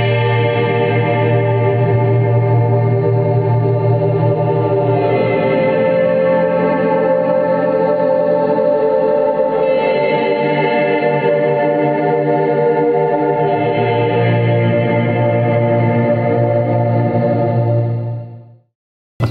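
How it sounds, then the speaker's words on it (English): Slow ambient electric guitar swells run through delay, reverb and a phaser pedal, sustained chords blooming and washing into one another with a sweeping, warbling shimmer for nearly twenty seconds before cutting off abruptly. "You get that phaser warbly effect over the top of it."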